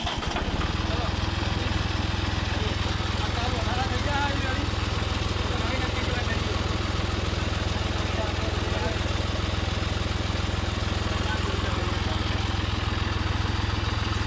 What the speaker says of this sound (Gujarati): હવે ટ્રેક્ટર સ્ટાર્ટ કરો.